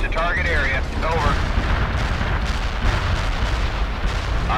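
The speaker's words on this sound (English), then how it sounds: "Artillery barrage inbound." Artillery barrage in the real-time strategy game World in Conflict, a dense continuous rumble of distant shelling and explosions that stays loud throughout, mixed with radio-style voices talking over it.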